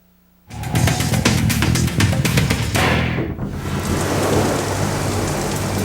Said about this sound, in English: a treacherous storm over the Atlantic Ocean is creating 40-mile-an-hour winds and massive waves